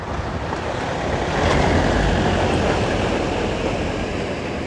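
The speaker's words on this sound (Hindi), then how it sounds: "ये देखें ना किस तरह समंदर की लहरें उठ रही होती हैं" Waves roll across an artificial lake in a steady, broad wash of water noise, moderately loud and continuous with no voices.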